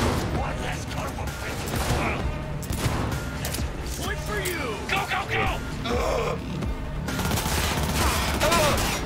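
DR5 Nova revolver firing in Cyberpunk 2077, a run of sharp shots amid mechanical clanks and combat noise, with someone talking over the action.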